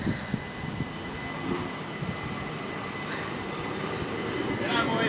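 A Southeastern passenger train pulls away from the platform at Sevenoaks station, with a low rumble and rattling wheels that build gradually as it leaves.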